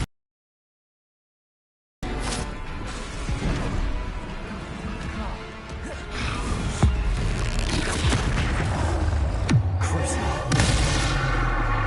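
Rumbling blasts and crackling impacts from the Confringo blasting spell in the Hogwarts Legacy video game, loud and continuous after two seconds of silence, layered with dense combat effects.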